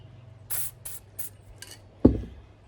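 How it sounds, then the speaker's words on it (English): Several short hissing bursts from an aerosol can of dry Teflon lubricant sprayed onto a rag, three or four quick puffs, followed by a soft thump. "this is dry lube, it's got Teflon, and I spray it on a rag."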